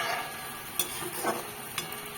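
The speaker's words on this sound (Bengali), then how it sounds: "মাছের জল ফুটে গেছে মাছগুলো ছেড়ে দিচ্ছি" Fish sizzles and crackles in hot oil in a pan, with a few sharp pops and spatters over the steady frying hiss.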